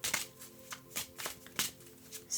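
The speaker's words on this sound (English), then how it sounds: "I'm taking the time here to shuffle" Tarot cards being shuffled by hand, with a series of crisp riffling bursts repeating at an uneven rhythm, close and fairly quiet, with no talking.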